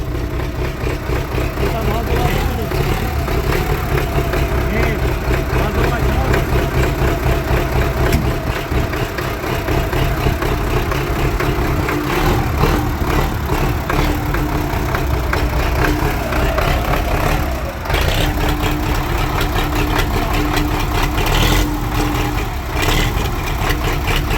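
An MTZ 80 tractor engine runs steadily at close range with a continuous low rumble, and its revs swell now and then over roughly 24 seconds.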